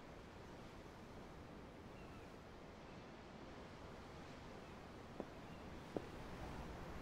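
Steady ocean surf washing against a ship at sea in Tales of Arise, a continuous broadband wash with a couple of faint brief clicks near the end and no talk.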